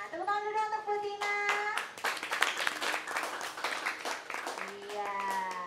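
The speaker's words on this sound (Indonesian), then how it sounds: "tepuk tangan dulu untuk Bu Tina." Applause and clapping from an audience at a property sales training session, a burst of hand claps lasting a few seconds with voices talking over it before and after.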